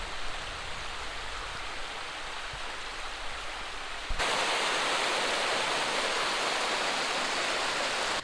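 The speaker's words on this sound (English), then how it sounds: "it's a gorgeous cascading waterfall, and it goes out to Lake Superior" A cascading waterfall that flows out toward Lake Superior, heard as a steady broadband rush of falling water with no voices. The roar grows noticeably louder and fuller about halfway through and keeps the same level to the end.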